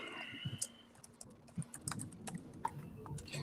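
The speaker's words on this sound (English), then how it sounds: "Why am I typing this out?" Typing on a computer keyboard during a comics sketch convention livestream, with scattered clicky keystrokes in irregular bursts, close and fairly quiet, no talk over them.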